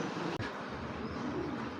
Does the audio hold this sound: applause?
no